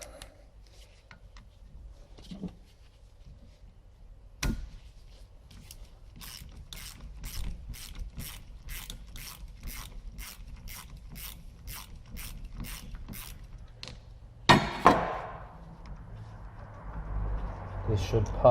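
A bolt being undone on a Ford Transit gear selector, heard as a run of about fifteen evenly spaced ratchet clicks at close range, followed by a louder clunk and some rattling handling noise.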